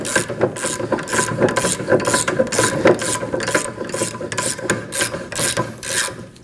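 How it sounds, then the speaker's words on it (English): A ratchet with a 19mm socket loosens a bolt while a 19mm wrench holds the nut, during rear parking brake shoe work on a 2011-2016 Kia Optima: a close, rapid run of rhythmic clicking strokes. "Using a 19mm socket and a 19mm wrench, we're gonna go ahead and hold the knot on the other side. And now we're gonna loosen the bolt."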